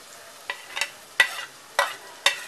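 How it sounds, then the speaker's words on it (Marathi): Spatula stirring masala paste with onion and tomato in a pan, four or five distinct scraping strokes at an even pace over a quiet low sizzle. "ही पेस्ट आहे ती थोडीशी परतून घेऊया आणि कांद्यामध्येच भाजून घेऊया."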